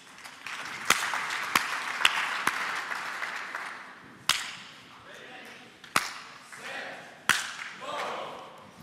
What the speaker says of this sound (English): Claps again.